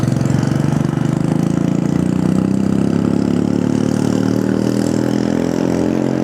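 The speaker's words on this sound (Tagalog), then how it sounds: "CRF ang motor ni madam." A Honda CRF motorcycle engine idles on the way to Camp Mosa in Montalban, giving a loud, steady, throaty mid-pitched chug that holds evenly for the whole stretch with no talk over it.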